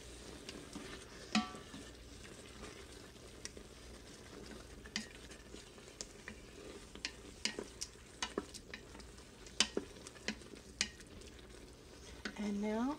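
A spoon stirs a lentil sloppy joe mixture in a pan, making quiet, irregular clicks and scrapes against the pan over a soft low simmer, heard up close.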